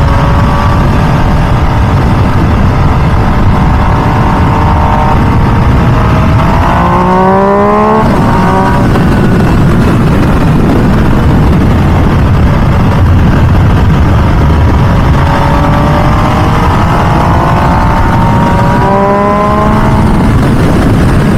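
A 2023 MV Agusta Dragster 800RR sport motorcycle exhaust roars continuously, with two distinct rising revs as the throttle opens and the pitch climbs, then settles back to a steady drone.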